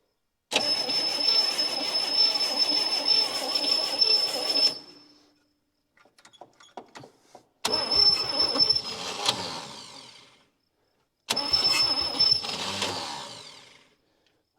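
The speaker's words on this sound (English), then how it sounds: "The starter's kicking out." The engine of a 1959 Chevy Biscayne, left sitting for twenty years in a Kansas lean-to, cranks hard on its starter in three long whirring bursts separated by pauses, the starter kicking out with a brief rattle between.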